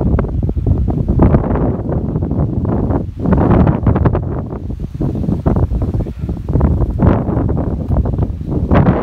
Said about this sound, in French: On a maintenant beaucoup de vent. Je crois que ça s'entend.